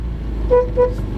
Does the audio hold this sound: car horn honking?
yes